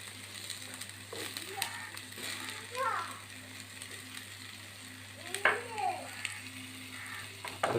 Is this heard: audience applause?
no